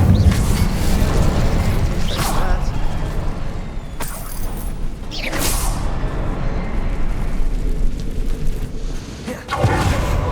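Fire spell Incendio cast in Hogwarts Legacy amid combat: a dense, loud rumbling roar with several sharp bursting pops over about ten seconds, continuous and close.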